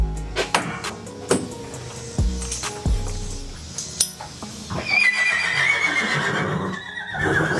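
A mature six-year-old stallion gives a loud, drawn-out whinny that rises and trails off, preceded by sharp knocks and hoof clops nearby.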